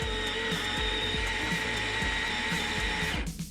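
A Baratza Sette 270 grinder grinds coffee beans in a loud, steady whir with a fast rhythmic chatter underneath, cutting off sharply after about three seconds.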